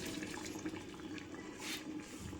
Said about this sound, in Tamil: ஒரு கிளாஸ் தேங்காய் பால் எடுத்து ஊற்றுறோம்